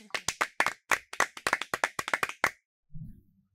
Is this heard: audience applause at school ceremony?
yes